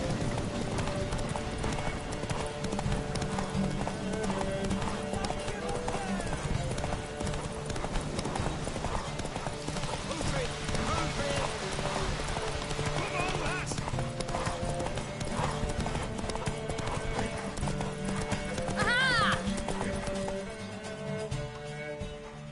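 Hooves clip-clop in a steady galloping rhythm under music and game effects, with a horse whinnying briefly and people talking at times.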